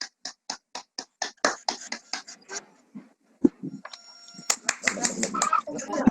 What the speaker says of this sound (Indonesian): Untuk itu tepuk tangan untuk kelompok belut listrik.